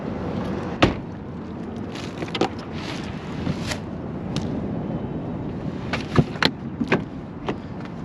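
A 2024 Mercedes-Benz GLA 250 4MATIC compact SUV on the move, with a steady low road and wind rumble broken by a few sharp knocks and thumps, no talking.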